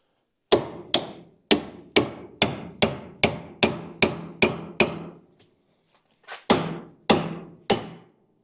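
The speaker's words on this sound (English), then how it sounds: "Just grab the pickle fork. Hopefully we can just give this like 2 or 3 good whacks and she'll come off of there." Hammer striking a pickle fork to separate a steering joint on a C10 truck, about a dozen sharp metallic whacks in a steady rhythm, a short pause, then four more blows, loud and close.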